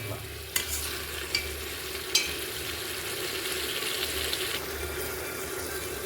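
Tomato masala frying in a pan as it is stirred, a soft steady sizzle with a few sharp scrapes of the spoon against the pan and faint watery bubbling throughout.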